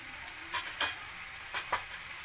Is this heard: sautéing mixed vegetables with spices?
yes